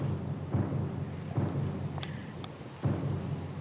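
A thunderstorm in the video game Pillars of Eternity II: Deadfire, steady rain-like noise under three or four low rolling thunder swells at regular intervals, with faint distant creaks and tones.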